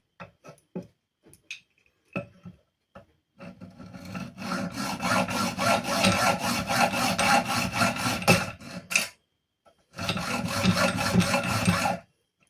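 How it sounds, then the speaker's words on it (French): A hand saw cuts through a French gas regulator to free its ring, starting with a few scattered taps and short strokes, then moving into long runs of rapid, rhythmic rasping strokes with a short pause between them. "scie le détendeur français pour récupérer la bague."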